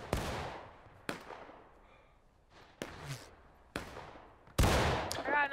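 Gunfire in the video game War of Rights: five sharp, separate shots spaced about a second apart, some near and loud, others softer and more distant, each with a short echoing tail.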